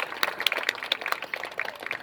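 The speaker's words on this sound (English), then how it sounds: "if you can all give him one final round of applause" A live audience at a sea lion show at Flamingo Land in North Yorkshire gives a moderate, steady round of applause, with dense overlapping clapping continuing throughout without talk.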